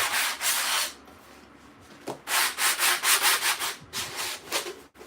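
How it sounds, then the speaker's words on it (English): A craft piece being sanded by hand, close bursts of rough rubbing strokes, a slow pair first, then a quicker run of short rhythmic strokes, no talking. "I can sand it a little"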